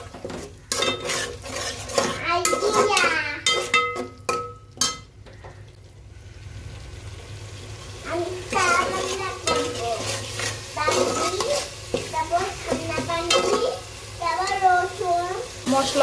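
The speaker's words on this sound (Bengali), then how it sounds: "মশলা ভালো করে কষাই লইতেছি" Spice paste sizzles as it is stir-fried in a pan, with scraping spoon-on-metal stirring and pan clatter running under a voice that talks through much of the clip.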